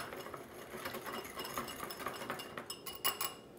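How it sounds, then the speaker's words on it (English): A whisk beats pancake batter with cinnamon and sugar in a bowl, making a steady, fairly quiet run of rapid scraping and light clinking strokes with a sharper clink near the end. "I'm going to just give this a good whisk"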